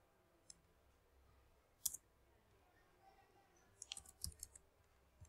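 Computer mouse clicks while building a UML diagram in StarUML, a few sharp faint clicks: one single, then a later cluster of quick double clicks against quiet room noise.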